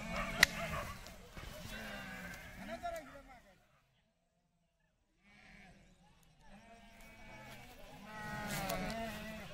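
Goats bleat repeatedly, close and fairly loud, while people talk over them, with a short quiet pause in the middle.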